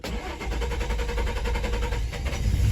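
A 2005 Nissan Xterra with a faulty crankshaft sensor cranks over and over without catching, a steady rhythmic starter churn close up that stays even throughout, with no voices.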